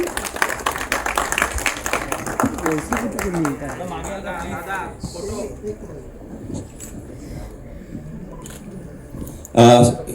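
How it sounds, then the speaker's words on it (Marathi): A burst of applause rises and fades beneath a speaking voice, followed by a short, sharp clatter near the end. "एकदा जोरदार टाळ्या पूर्ण टीमसाठी"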